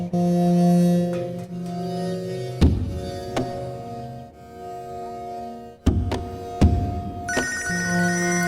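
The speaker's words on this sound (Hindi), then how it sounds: "भैया जी फोन।" A telephone rings inside a busy roadside hotel eatery, its repeated electronic ring tone steady and fairly loud over background clatter, with a few dull thuds breaking in.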